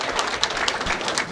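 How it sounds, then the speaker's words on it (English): Fans at a bowling alley applaud a player, a short stretch of scattered, fairly soft clapping blended with the room's ambient noise. "Well-deserved round of applause from the fans here."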